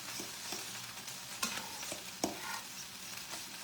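Steady, faint sizzling of peppers frying in a pan for taco pizza sauce, with a few scraping stirs and clacks of a utensil.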